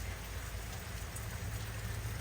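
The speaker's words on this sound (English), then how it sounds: "Sitting out here on the back porch, watching it rain, watching the grass grow." Steady rain pours down on a cool, wet Oklahoma day, heard from a back porch as a dense, even hiss of drops on surfaces, continuous and fairly close, with no voices.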